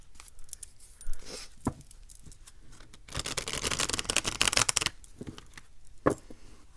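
Tarot card deck shuffled by hand, a dense flurry of riffling card flicks in the middle, with scattered soft taps and clicks before and after, close and fairly quiet.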